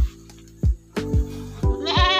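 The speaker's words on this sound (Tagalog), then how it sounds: "Ito yung kambing na binigay naman po ni Sir Yuki at Dikong si Yuki at si Dikong." Goats on a farm bleating several times in short separate calls, close and fairly loud, the last one a longer wavering bleat, with no talking.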